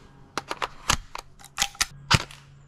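An airsoft pistol firing on full auto gives a quick irregular string of sharp, close pops and snaps, about a dozen shots in under three seconds with no talking.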